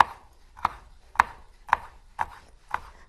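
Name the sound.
slicing salad vegetables with a knife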